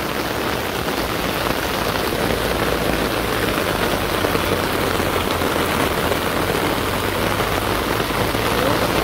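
Steady light rain falling on a pond outdoors, a continuous close wash of pattering drops holding at an even level throughout, with a low rumble underneath.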